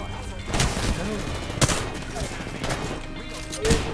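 Gunfire in the video game Apex Legends, scattered sharp shots and short volleys over a busy, noisy background, with a voice partly heard beneath.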